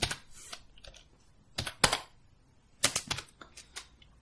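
Crisp keystrokes on a computer keyboard arrive in quick clusters with brief pauses between them, up close and moderately loud, with no talking.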